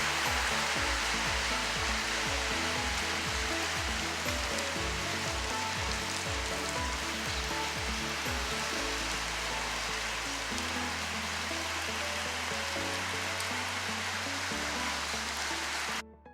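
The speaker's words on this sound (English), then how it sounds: "I just kind of wanted to show you guys how cool it is when it rains here." Light tropical rain falling in a public park in Puerto Vallarta, Mexico, a dense, steady hiss close to the recorder that stays loud throughout, with a low droning tone underneath and no talking.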